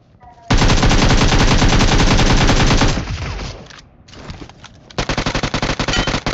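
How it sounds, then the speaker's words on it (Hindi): Loud, rapid automatic gunfire from a sniping battle royale video game rattles out in long sustained bursts, then short choppy volleys of shots close up. "अब इस बंदे ने फालतू में फायर कर दिया"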